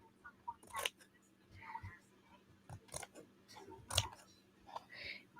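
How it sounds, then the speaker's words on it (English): Scissors snip a paper flap off an altered book in a few quiet, close, crisp cuts spaced out over a soft, low background. "Cut this little flap off."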